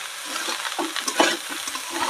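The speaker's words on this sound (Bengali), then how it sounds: "ভাতটা দিয়ে ভালো করে মিক্স করে নেব। আমি নাড়াচাড়া করব, ভাজা ভাজা করব" Cooked rice being stirred and fried in a pan in a village kitchen, with a continuous close sizzle and repeated scraping, scuffing strokes of a spatula mixing the rice.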